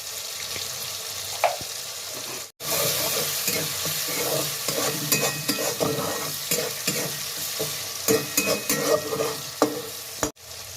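Vegetables with chopped tomato and salt stirred and frying in a pan for vegetarian moong dal: steady close sizzle with repeated scraping stirs, a couple of brief gaps, no talk.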